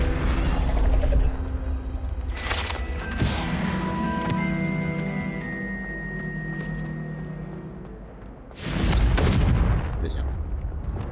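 Magic explosions from the Confringo spell boom in Hogwarts Legacy: a loud blast at the start, a long ringing, crackling tail, and another heavy blast near the end.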